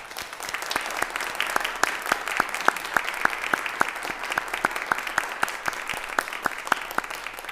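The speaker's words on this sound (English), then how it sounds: "Tiffany, this parish stands as one to applaud you" A large church congregation stands and claps steadily and continuously, sharp individual claps standing out over a dense wash of applause throughout, with no talking.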